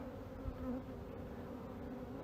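Honey bees buzzing around an open hive during an apiary inspection, a faint, steady insect hum with no voices.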